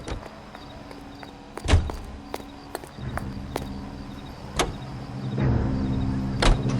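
A car in the video game L.A. Noire drives along with a steady low engine hum, broken by several sharp clicks and thumps, including a louder knock near the start and others scattered later; no one speaks.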